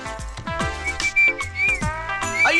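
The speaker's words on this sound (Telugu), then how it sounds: "అయ్యో అలా విజిల్ కూడా వేయకూడదు తల్లి" Someone in an exam hall whistles a wavering, melodic tune through the lips, close and fairly loud, with the pitch sliding between notes and some brief knocks or thumps mixed in.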